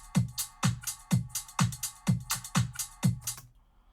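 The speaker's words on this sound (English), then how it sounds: "So we just have a drum track set up which sounds like this." A basic drum loop runs through a music production plugin, a steady pattern of punchy kick and snare hits with bright cymbal wash, about two beats per second, loud and alone before it stops abruptly.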